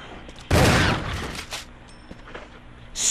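A single loud shotgun blast from the Resident Evil remake video game, followed by a fading tail and low game ambience.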